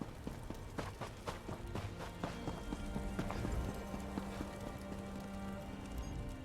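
Horse hooves clop rapidly in the video game The Elder Scrolls Online, a quick steady galloping rhythm of sharp hits over a continuous low background, fairly quiet and alone without talking.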